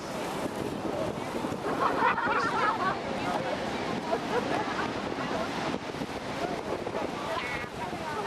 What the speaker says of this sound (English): All about Niagara Falls.